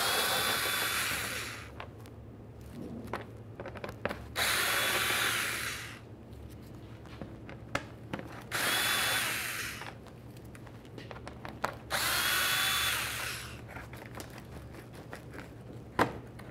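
A power drill backs Phillips head screws out of the front bumper of a 2012-2018 Nissan Altima, running in four steady bursts of about two seconds each, separated by quiet gaps with light clicks and handling noise.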